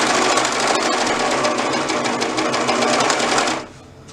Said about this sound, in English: you can always use your sewing machine with a stretch stitch